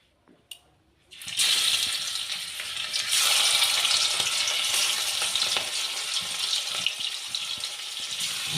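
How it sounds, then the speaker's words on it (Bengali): Prawns hit hot mustard oil in a wok with a sudden loud sizzle after a brief quiet start. A dense, steady frying hiss follows close up and holds for the rest, with no talk. "চিংড়ি মাছগুলো ভেজে নেবো"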